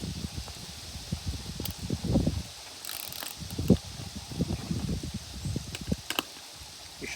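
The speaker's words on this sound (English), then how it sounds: "I'm holding the head, okay? And I'm going to unscrew it here" A hand truck's wheel bolt is unscrewed by hand with the head held in place, producing a series of close, irregular metallic clicks and ratcheting creaks in short bursts with brief pauses between them.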